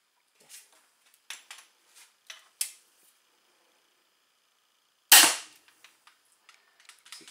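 A crossbow fires a 150 grain bolt at point-blank range, giving one sharp, loud crack with a fast decay. Several softer clicks and handling taps come before and after it.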